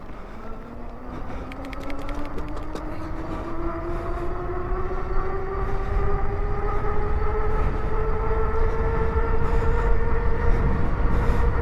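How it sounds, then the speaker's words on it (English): An Engwe X24 folding electric mountain bike in sport mode, run on throttle and pedals, accelerates to top speed; its motor whine climbs steadily in pitch over a constant rush of wind and road noise. "I'll use the throttle and the pedals, and we'll just see what we can get out of this."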